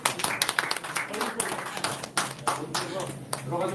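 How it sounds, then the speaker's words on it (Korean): A small audience at a Korean archaeology lecture clapping to welcome guests arriving from Wonju, with uneven bursts of nearby hand claps and a voice talking through them. "원주에서 오신 박수 한번 쳐드립니다"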